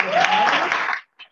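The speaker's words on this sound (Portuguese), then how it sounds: "Palmas, então, para o professor" Brief burst of audience applause for a visiting professor at a lecture on organizational communication, dense clapping lasting about a second before cutting off, followed by a short faint patter.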